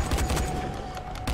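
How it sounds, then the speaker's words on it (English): A police rifle fires rapid bursts in the video game Dying Light, several close, loud shots in quick succession. "Now let's start shooting you."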